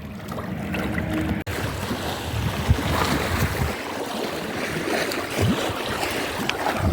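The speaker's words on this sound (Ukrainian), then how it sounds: "Розбушувалося Київське море" Rough, wind-whipped waves churn on the Kyiv Sea reservoir, a steady broadband wash of water and wind close by with small splashes, no voices.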